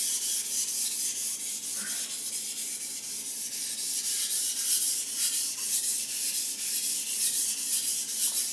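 Takeda gyuto knife drawn steadily across Imanishi 1K and Blue Aoto 2K whetstones, a continuous gritty scraping with close, even strokes and firm pressure, with no voices.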